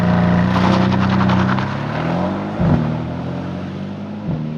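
A 2020 Mercedes-AMG C63S Coupe launches hard with launch control, its engine roaring loud and close, then dropping pitch sharply at each quick upshift as it pulls away.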